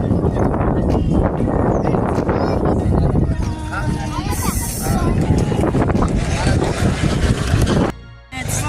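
A steady boat engine drones with gusting wind buffeting the microphone, and voices talk over the noise throughout.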